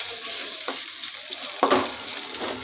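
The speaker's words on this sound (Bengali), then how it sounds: "ভালো করে আলু গাজরের সঙ্গে ভেজে নিতে হবে চাউমিনটাকে" Boiled chow mein frying in a pan with potatoes and carrots, a close, steady sizzle broken by scraping stirs and one sharper clatter of the utensil.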